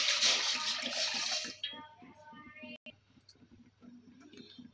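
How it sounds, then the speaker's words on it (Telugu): Water pours from a tap into a pot on the stove for making semiya pulihora, a loud rushing stream that stops abruptly, then quieter dripping under someone talking. "నీళ్ళు వేసుకోవాలి"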